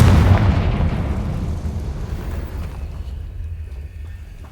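Confringo explosion spell in the Hogwarts Legacy video game, a single loud close blast with a deep rumbling boom that slowly fades away over several seconds.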